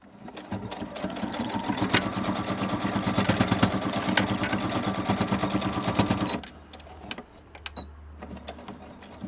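A sewing machine stitches ruffles in a fast, steady, close mechanical whir with rapid needle clatter for about six seconds, then stops, leaving faint handling noises.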